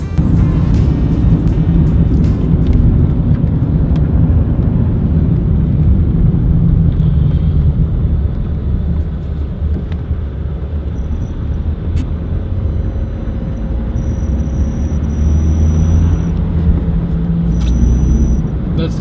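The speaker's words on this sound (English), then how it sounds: "The automatic whistle sound when you accelerate is a safety feature of the BMW 369." A BMW car drives and accelerates with a steady loud engine rumble and road noise, while a thin high whistle rises faintly above it in the later part.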